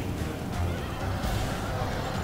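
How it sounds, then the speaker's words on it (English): Horses whinnying amid a cavalry clash in Medieval 2 Total War, shrill neighs rising over a heavy rumbling din of hooves and battle noise that stays thick and continuous throughout. "It's all my cav versus the combined horse might of Hungary and Denmark."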